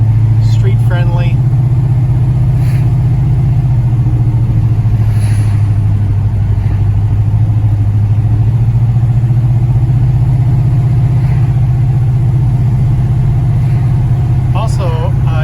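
A 1965 Plymouth Belvedere's engine runs steadily and loudly close by, a deep continuous idle rumble with slight variation in its note and no break throughout.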